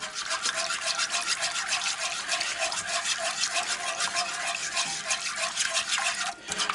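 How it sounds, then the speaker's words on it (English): A whisk beats sauce for venison enchiladas, probably in a cast iron pan, with rapid, even scraping strokes close up. The rhythm runs continuously and pauses briefly near the end. "we're going to keep just whisking it till this all gets incorporated in."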